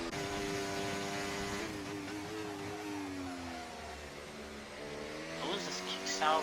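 Formula racing cars in a video game, engines droning and shifting pitch as they chase one another, steady and fairly loud under continuous commentary talk.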